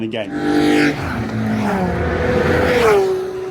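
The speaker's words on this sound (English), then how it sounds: "They've got another car going past" A racing car at Brands Hatch GP circuit roars past with a rising then falling engine whine, loud and close, followed by another engine tone fading away.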